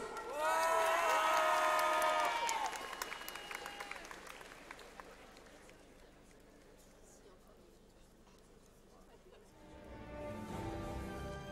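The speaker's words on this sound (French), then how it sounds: "vous allez me faire un tonnerre d'applaudissements pour nos participants" Applause from an audience at a cosplay show at Japan Expo 2023, with excited voices over it at first, fading out, then speech returning near the end.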